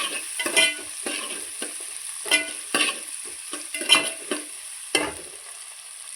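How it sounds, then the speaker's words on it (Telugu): A ladle stirring ginger garlic paste in a pan of sizzling crab curry, with soft scraping strokes repeating over a steady hiss of frying, close by and without talk. "వేసాక దీన్ని కూడా దీంట్లో కలిసేలాగా ఒకసారి గరిటె పెట్టి కలుపుకుందాం"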